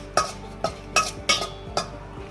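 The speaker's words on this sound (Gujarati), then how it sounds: "હવે આને ઘીમાં આપણે એક સરખું થઈ જાય ત્યાં સુધી સાતળી લઈશું ધીમા તાપે" Crushed dates and figs are sautéed in ghee in a pan over low heat. A spatula scrapes and taps against the pan in five evenly spaced strokes, close and clear, with no talking.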